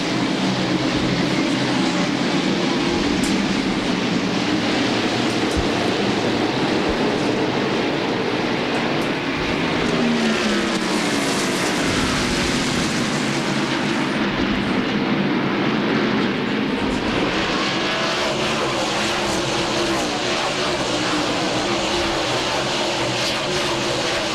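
NASCAR stock cars roaring at the start of a race at Martinsville, a loud, continuous engine drone from the passing pack that swells and shifts without a break.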